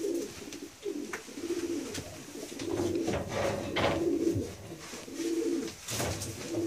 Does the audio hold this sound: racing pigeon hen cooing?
yes